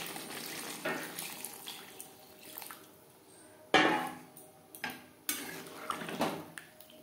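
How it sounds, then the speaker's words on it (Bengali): Water pours into a pan of spiced potato and silver carp curry amid clattering cookware and a splashing, trickling wash, with several sharp knocks and scrapes of a utensil against the metal pan. "এই পর্যায়ে দিয়ে দেব জল।"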